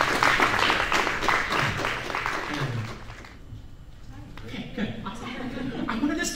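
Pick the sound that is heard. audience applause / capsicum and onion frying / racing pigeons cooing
audience applause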